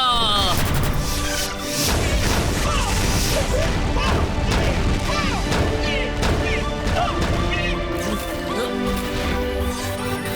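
A cartoon Meka Launcher fires and strikes in a loud, dense burst of crashes, booms and thuds that runs the whole time over a busy music score, with a voice shouting briefly.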